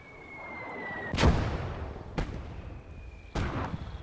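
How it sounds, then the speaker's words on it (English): Mortar rounds fire in the strategy video game Their Finest Hour: three sharp, heavy booms spaced about a second apart, each with a short rumbling tail. "You're really trying to hit these with mortars."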